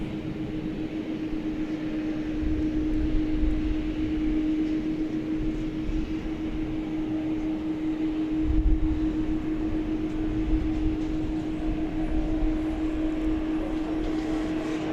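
Tri-jet airliner on its takeoff run at night at DFW Airport, a steady loud engine roar with a strong sustained hum and rumbling low end holding evenly for the whole stretch, no voices.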